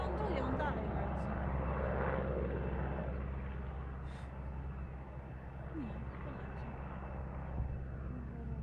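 A rescue helicopter flies over Kasprowy Wierch in the Tatra mountains, heard as a steady, distant engine and rotor drone that holds throughout against faint open-air background.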